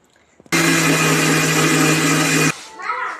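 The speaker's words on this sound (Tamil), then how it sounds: "ஆறிடுச்சு. மிக்ஸி ஜாருக்கு சேர்த்துடலாம்." A mixer grinder blending kara chutney with rock salt starts abruptly and runs at a loud, steady whine for about two seconds, then cuts off, followed by faint voices.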